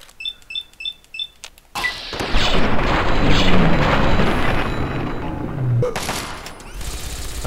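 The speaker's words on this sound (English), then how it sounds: "Somebody is throwing grenades at us." Grenade explosions in Fallout 3, a sudden loud blast rolling into a long rumbling roar after a few short beeping interface tones, with another burst near the end.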